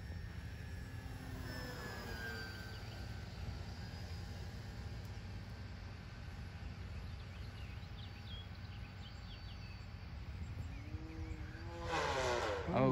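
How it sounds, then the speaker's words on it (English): A small engine on a 3D-printed Eclipson Model T model airplane drones steadily at about 40% throttle with a high whine, near and constant, rising into a louder burst at the end as something breaks apart. "I do still have an airplane flying though"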